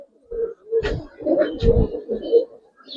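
Pigeons in a loft coo in a series of close, throaty rolling calls, several distinct bursts separated by short pauses.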